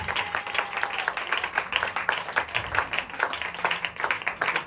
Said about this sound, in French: Je veux que tu acclames bien le Seigneur Jésus-Christ de Nazareth.